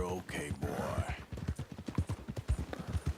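Horse hooves clip-clop at a steady walking rhythm in the Western video game Red Dead Redemption 2, mixed with in-game dialogue and a calming horse.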